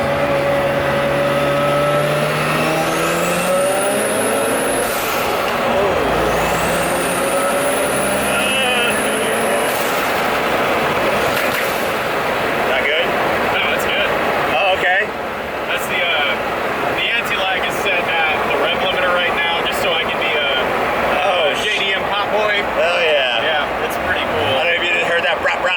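A 500 hp bridgeported rotary Mazda Eunos Cosmo, turbocharged and fitted with four mufflers and a catalytic converter, revs up loud and close with a rising buzzy howl that climbs through two pulls, then drones on steadily while people talk over it.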